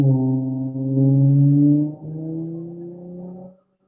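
A car passes nearby with a tonal engine drone that holds steady, shifts pitch partway through, then fades away.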